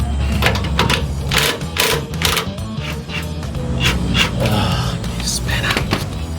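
Power tool, likely a rattle gun, undoing a 19mm bolt on a Nissan Patrol GU: repeated loud mechanical bursts and rattling hammering in short runs, close to the microphone.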